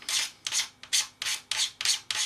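Scraping a seam clean on a 1/48 Kinetic E-2C Hawkeye plastic model kit: seven close, rhythmic rasping strokes in steady succession, each a bright dry scrape with a brief pause between, and no talk.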